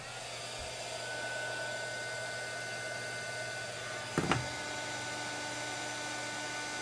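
Heat tool melting embossing powder, a steady loud whooshing blower drone throughout at close range, with a brief knock partway through and no talk.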